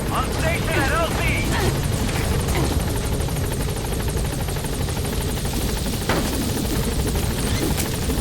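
A helicopter drones loudly and steadily as it comes in to a landing zone in Metal Gear Solid V, its rotor thrum filling the whole stretch, with speech mixed in above it.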